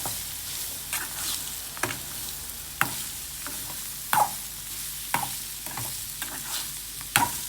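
Small shallots sautéing in a pan with a half handful of chana dal, a steady soft sizzle broken by sharp scraping stirs roughly every second, close and with no voices.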